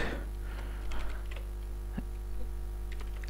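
Computer keyboard being typed on while writing C++ code, a few soft scattered keystrokes close by over a steady electrical hum.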